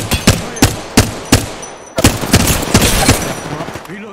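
Repeated gunfire in a squad-based shooter video game: sharp single shots in an uneven rhythm, then a denser burst of rapid fire, loud and close.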